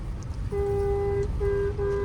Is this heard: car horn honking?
yes